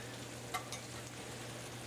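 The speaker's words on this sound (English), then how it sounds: "so while this is frying now" Chicken and spinach frying in a pan for a cream sauce, a steady low sizzle throughout with a couple of brief stirring scrapes near the start, fairly faint and with no talking.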